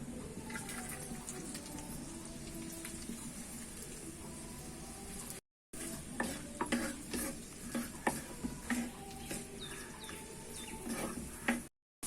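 Onions fry in hot oil in a pan, a constant close sizzle broken by clattering spoon stirs and scrapes, with no talking.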